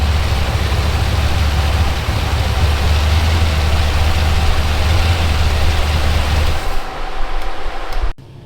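A small block Chevy V8 fitted with a fake 671 blower idles loudly and steadily, with a deep low rumble that runs for about seven seconds before it cuts off abruptly near the end.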